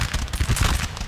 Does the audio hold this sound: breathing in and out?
no